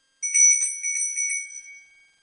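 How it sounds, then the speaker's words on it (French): A small bell rings once with a bright, clear chime that fades over about two seconds, heard alone in a quiet room. "il va y avoir la petite cloche"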